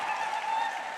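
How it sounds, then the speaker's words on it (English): A large crowd cheers loudly and steadily for Team Puerto Rico during the parade of nations at the Roller Derby World Cup 2025, a dense continuous roar with some scattered clapping and no clear talk. "Huge cheer for Puerto Rico."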